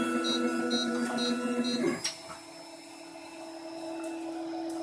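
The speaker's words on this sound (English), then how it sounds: "it draws out a line of material just to make sure the printhead is flowing properly" A 3D printer hums with steady motor whine and rhythmic stepper chirps as it heats the filament and draws out a priming line of material, then settles after a sharp click into a quieter, even drone.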